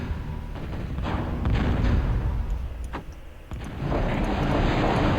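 An artillery bombardment in a video game rolls on as a heavy, continuous rumble broken by repeated booms and dull thuds, fairly loud, with a brief lull near the middle.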